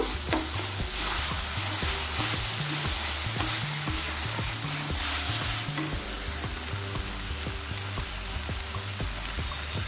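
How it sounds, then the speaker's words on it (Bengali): Chicken and half-boiled potato mixture with chopped coriander cooking in a pan, a continuous close sizzle with stirring strokes, with music running underneath and no talk. "এটাকে আমি 10 মিনিট মতো রান্না করে নিলাম"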